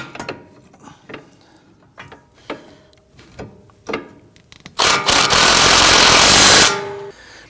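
A wrench ratchets on a ball joint stud nut on a 2009-2017 Volvo XC60 front suspension, giving a series of short clicking bursts, then a loud sustained burst of broadband noise near the end.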